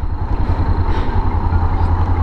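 A still-cold Yamaha XTX 660 motorcycle engine throbbing at a steady low pulse, loud and close, with a continuous rumbling beat throughout.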